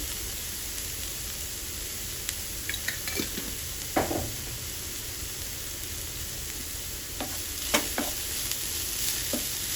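Onions sizzling in a pan as chili powder and coriander powder are stirred in, a steady frying hiss with occasional spoon scrapes and clinks, close and fairly quiet, no talking.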